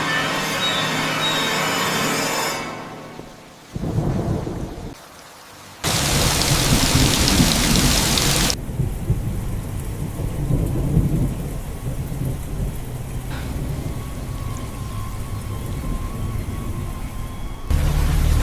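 Heavy rain pours steadily at night with loud bursts of thunder crashing through it, a few abrupt breaks and surges in the downpour, and no voices.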